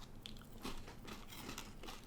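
Crunchy bite into a Whatchamacallit candy bar, a few close crackling crunches and chewing in quick succession over about two seconds, loud and near with no talking.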